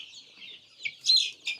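Kaveri breed chicks peep and chirp in short high-pitched bursts, close by, with no talk over them.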